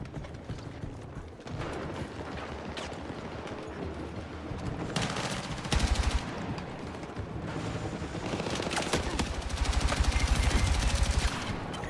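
Rapid gunfire in a shooter video game, with bursts of repeated shots building in intensity, the loudest volleys coming near the end over a steady background.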